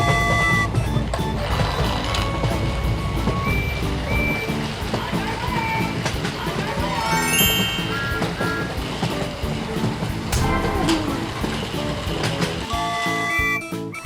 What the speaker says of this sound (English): Now we're gonna let the green train named Henry go.